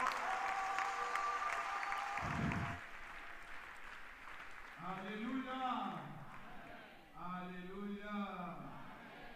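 Broad crowd applause at a mass prayer gathering, loud at first and then settling, with voices speaking and calling out over it.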